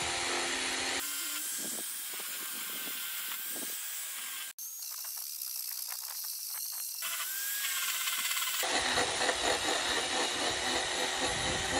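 A power carving tool working a wooden bowl gives a continuous high whirring hiss that swells and thins as it bites and eases off the wood, close and steady, with no talk.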